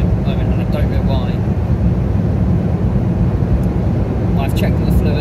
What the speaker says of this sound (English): my car sounds like a jet engine at the moment, and I don't know why